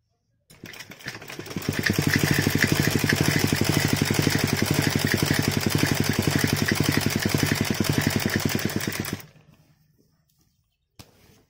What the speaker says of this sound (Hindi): यहाँ से इसके चारों तरफ आपने सिलाई लगा लेनी है।